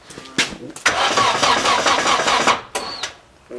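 A Nissan 240SX engine cranks in a long grinding burst between short clicks and starter turns, close by, struggling without catching on a dying battery.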